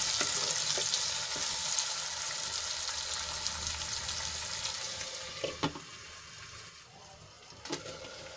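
Tomatoes and onions cook together in a hot pan with a steady, close sizzle that softens slightly over time, broken by a couple of brief utensil clinks near the end.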